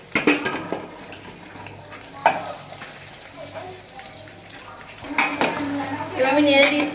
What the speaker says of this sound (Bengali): এবার আমি নেড়ে দিচ্ছি।